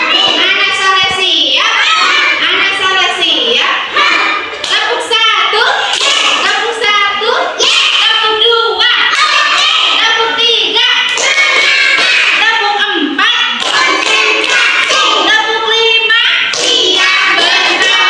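Schoolchildren in a classroom perform a rhythmic clapping chant, hands clapping in patterned bursts while young voices chant along loudly and continuously throughout.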